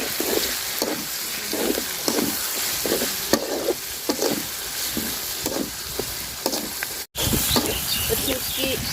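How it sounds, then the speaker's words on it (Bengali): Dried fish frying in hot oil with a crushed spice paste, a dense steady sizzle broken by a regular rhythm of utensil scrapes and stirs, close and fairly loud throughout. "শুটকিটা দিয়ে দিলাম, শুটকিটাও একটু ভাজা নিব আমি তেলের সাথে"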